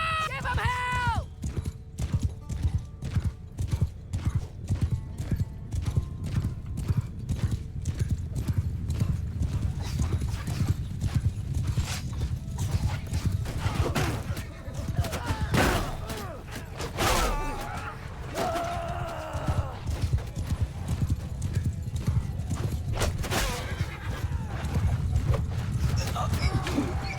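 A cavalry charge in the game Bannerlord brings rapid, dense hoofbeats galloping close, mixed with battle clatter, horse whinnies and shouting voices throughout.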